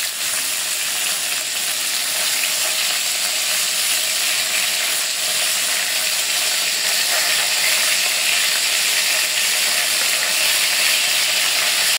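Large fish pieces coated in turmeric keep frying in hot oil after being turned over, a loud, even, crackling sizzle that runs on steadily without a break.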